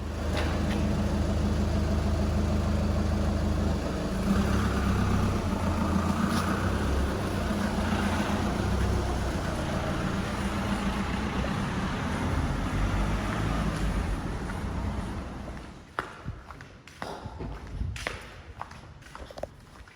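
A 2012 VW Touran 2.0 diesel in an underground garage gives a loud, steady low rumble for about fifteen seconds, then cuts off, leaving scattered nearby clicks and knocks.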